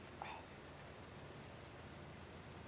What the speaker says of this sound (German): Bin ich mal gespannt, wie lange es regnet.